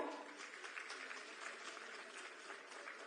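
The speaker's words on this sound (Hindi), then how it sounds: "तालियां आपकी तरफ से जोरदार हों।" Sustained applause from an audience at a Jharkhand government ceremony where appointment letters are handed out, a steady wash of many hands clapping, fairly distant and even throughout.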